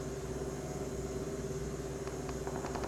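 A car engine drones steadily in the video game PUBG Mobile. The low, even hum holds throughout, with a faint higher tone running over it.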